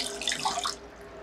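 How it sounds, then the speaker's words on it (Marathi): A little water is poured into a mixer jar holding leftover tomato and carrot soup pulp, a short, bright splashing gush that fades after under a second. "थोडं पाणी घालायचं"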